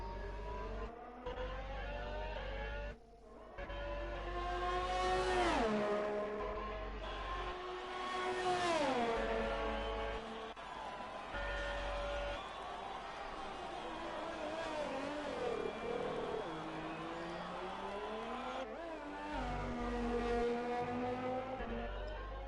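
Racing car engine in a racing video game at the Bahrain circuit, a loud continuous whine that rises and falls sharply through gear changes and braking, with brief dips and a faint tyre squeal.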